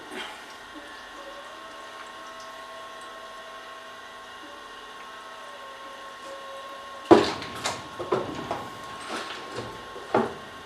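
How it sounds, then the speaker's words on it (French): Electroplated parts from a yellow-chromate barrel zinc plating line, rinsed with water: a machine hums quietly at first, then splashing and gushing water breaks in abruptly and continues in uneven bursts. "On va bien rincer."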